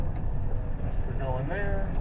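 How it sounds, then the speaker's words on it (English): Car passing behind on a road, a low, steady rumble of the engine and tires close by, with a voice talking over it. "I'll let this car by behind me."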